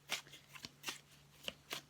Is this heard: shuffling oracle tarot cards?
yes